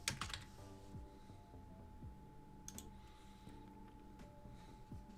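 Quiet, quick keystrokes clatter on a computer keyboard in uneven bursts, with a few louder key hits among the steady typing.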